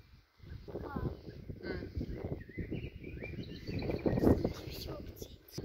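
Birds chirp with repeated short calls on a rural street in the Netherlands, mixed in with talking voices and light wind noise on the microphone.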